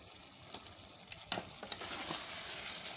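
Arbi and eggplant frying in masala in a pan, a faint steady sizzle rising over a few seconds with several sharp spoon taps and scrapes against the pan, no voices.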